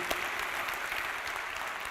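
Congregation at a Baptist church service clapping together, a dense steady patter of many hands filling the room, fairly loud and even throughout with no talking.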